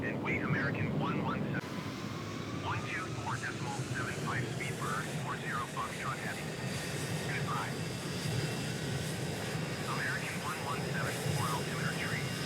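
A Boeing 737-800 jet airliner at JFK airport in Microsoft Flight Simulator 2020 gives a steady, broad engine roar throughout, while someone talks over it.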